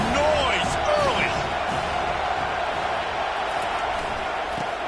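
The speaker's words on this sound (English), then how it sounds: "This crowd bringing the energy and noise early." A roaring crowd fills a college football stadium at a USC game, a loud, steady wash of noise with shouts rising above it and a commentator talking over it.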